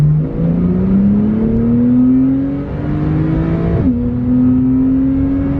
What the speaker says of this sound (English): let's do a second gear acceleration as we usually do